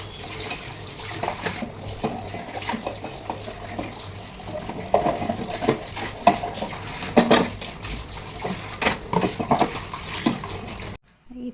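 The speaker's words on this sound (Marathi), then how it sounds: "ते डबे घासून घेऊन थोडीशी भांडी पण घासायची" Containers and dishes scrubbed and washed by hand in a kitchen, with running water, rubbing scrapes and intermittent clatter of metal pots and utensils, close and moderately loud, continuous until an abrupt stop.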